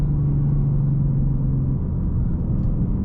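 A 2023 Ford Mustang Mach 1 V8 with a Tremec manual runs through a no-lift shift, giving a steady, loud low engine drone with a held tone that drops away partway through, then a continuing rumble.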